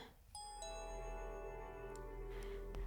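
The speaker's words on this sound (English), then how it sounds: "I ring the doorbell and wait for a moment" A doorbell in the NIKKE video game gives a single clear ding-dong chime, with bright tones ringing out and decaying over a low steady hum.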